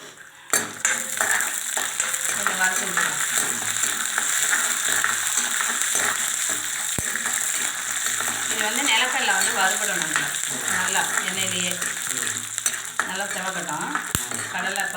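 Food frying and being stirred in a pan, a steady sizzle with scraping, clattering stirring strokes, close up, while voices talk intermittently over it, with a couple of sharp clicks.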